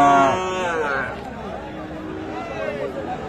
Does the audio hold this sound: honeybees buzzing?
no